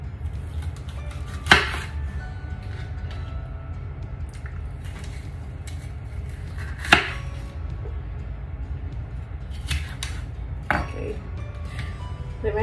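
A knife cutting bell peppers on a board, a few sharp isolated chops spaced seconds apart over a low steady background hum.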